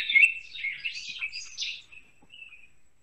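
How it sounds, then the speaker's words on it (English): Birds chirp and tweet in a series of bright, close calls that fade out toward the end, with no talking over them. "Those birds were piped in."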